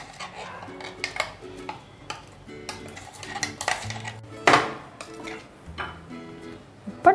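Ground onion paste scraped from a grinder jar into a bowl while making Tamil crab masala, a run of clinks and metallic scrapes of spoon on steel, irregular and close, with one louder clatter midway.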